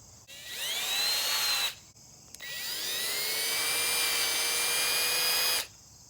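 A power drill or similar tool boring holes into PVC pipe for a homemade fruit picker, two sustained whining runs, the first short and the second longer, loud and close with a rising then steady high pitch.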